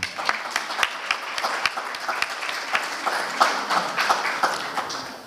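An audience at an Urdu poetry recital claps in a lively burst, with crisp individual claps standing out from the steady applause and no talking.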